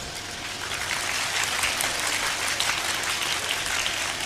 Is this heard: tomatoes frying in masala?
no